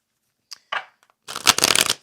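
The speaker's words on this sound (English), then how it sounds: "Let's give it a real good shuffle." Tarot cards being shuffled, two brief riffles followed by a longer, louder burst of rapid papery flutter, close up with no talk.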